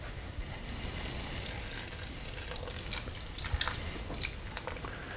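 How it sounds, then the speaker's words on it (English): Pepperoncini juice pours from the jar onto a pot roast in a steady, faint liquid trickle with small splashes and drips, close by. "We're going to do about 1/2 jar of the juice and about 1/2 jar of the peppers."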